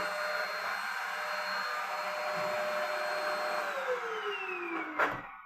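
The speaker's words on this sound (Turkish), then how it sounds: "diğer süpürgeyi açarım insanlar." Vacuum cleaner in a home running steadily with a broad whine and hum, its motor pitch gliding down near the end before a short bump; no one speaks.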